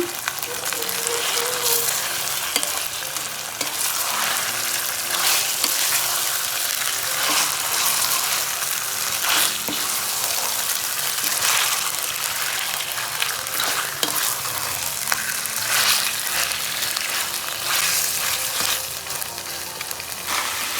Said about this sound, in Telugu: చూడండి, 1 నిమిషం వేగింది చికెను ఆయిల్లో